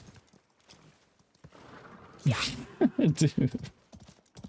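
A horse's hooves clip-clop in the video game Highguard, a short run of rhythmic thuds rising midway and repeating in quick beats, with a voice speaking briefly over the sound.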